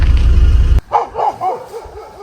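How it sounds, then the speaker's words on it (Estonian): Three dogs bark outdoors beside a walking route in Finland, a quick run of several mid-distance barks and yips after a loud rumbling noise cuts off. "Kas te kuulete seda? Need on 3 kurja koera siin."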